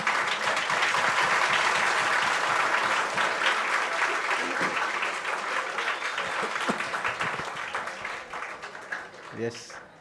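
Dense, steady applause from the audience at an inaugural science lecture fills the hall, loud and continuous, then slowly thins toward the end as a voice starts up briefly.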